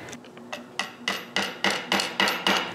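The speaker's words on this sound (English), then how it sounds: "Finally, I nail the hook in place." A small headless nail is hammered into a round wooden frame to fix a hook, about eight sharp, close taps in a steady rhythm that grow louder as the strikes get firmer.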